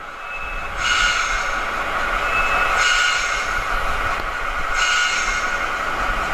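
A model train locomotive rolls along and brakes, making loud repeated screeching bursts that rise and fade roughly every two seconds over a low rumble.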